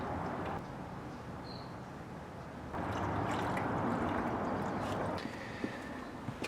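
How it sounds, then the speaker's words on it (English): Water pours and splashes into the tray of a Harbor Freight 4 1/2 inch tile saw, a steady broadband rush that grows louder midway, with a few small drips and knocks near the end. "And then you just fill it with water."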